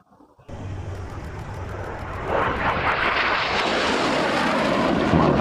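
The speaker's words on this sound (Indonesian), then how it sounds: "pesawat tempur." A loud jet roar sweeps in after a brief quiet moment, building into a sustained, rushing engine blast that stays strong to the end.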